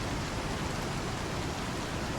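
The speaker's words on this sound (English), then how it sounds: "Don't you like the nice rain?" Steady dense hiss of rain in the video game Star Citizen, falling through a ship's interior, an even, unbroken wash of noise with no talk.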